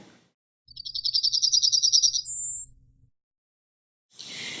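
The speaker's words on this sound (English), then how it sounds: "And here's the call of the Yellowhammer." A Yellowhammer calls with a rapid stuttering series of high metallic notes followed by a longer, higher sustained note, clear and close over a faint low rumble, then silence before another brief burst of noise.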